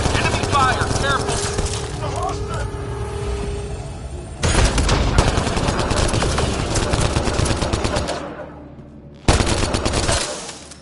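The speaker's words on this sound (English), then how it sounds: "Enemy fire! Careful!" Enemy gunfire in Mass Effect Andromeda, sustained rapid automatic shooting that rattles on for seconds, breaks off, then resumes loudly in heavy bursts.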